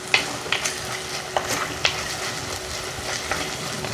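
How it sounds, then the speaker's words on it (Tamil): Onions sautéing with ginger garlic paste in a pan, a close continuous sizzle broken by sharp scrapes and taps of the spoon at irregular intervals. "வெங்காயம் நல்லா வதங்கிடுச்சு பாருங்க. இந்த டைமில் நம்ம இஞ்சி பூண்டு பேஸ்ட் போட்டுக்கலாம்."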